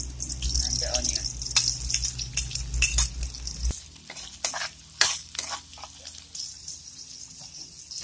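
Garlic and onion are sautéed in hot oil in a cooking pan: a sizzle under repeated sharp spatula scrapes and knocks. The frying hiss fades partway through while the stirring clatter goes on.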